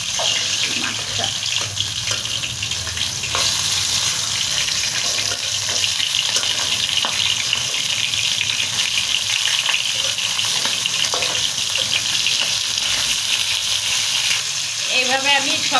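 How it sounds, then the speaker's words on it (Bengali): Poa fish frying in a pan, a steady broadband sizzle with splashing, water-like crackle throughout, fairly loud and close, with no talking. "এইভাবে আমি সবগুলা মাছ এক এক করে ভাইজা নিব"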